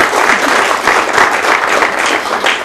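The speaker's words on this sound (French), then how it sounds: "Donc je crois qu'on peut l'applaudir aussi." An audience applauding a performer after a theatrical show, a dense, continuous wash of many hands clapping at close range that holds steady throughout, with no voices standing out.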